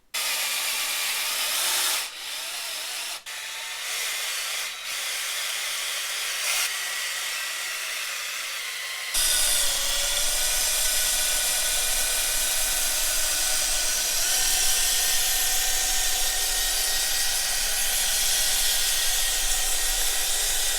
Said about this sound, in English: this is the second time we are spinning or mixing the seed honey in, and it is definitely a two-man job with this honey